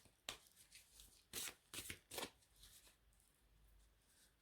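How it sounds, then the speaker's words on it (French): Dixit game cards shuffled by hand in a quiet room, several short crisp riffling bursts in quick succession, close and fairly soft, with no talking. "nous allons prendre donc les cartes du Dixit"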